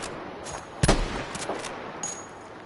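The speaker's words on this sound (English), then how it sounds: "All I hear is just explosions and guns going off." Gunfire and explosions from the video game Payday 2, heard as a few sharp, loud bursts spread across a couple of seconds over a low, steady background.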